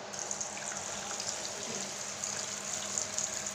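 Tap water runs over tilapia fish set to soak, a steady, close splashing trickle from start to finish with no voices.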